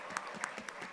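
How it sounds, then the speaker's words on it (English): Audience applause in an auditorium at a national marketing summit, a brief burst of scattered claps with distinct sharp hits over a soft background wash. "Let's give him a final round of applause."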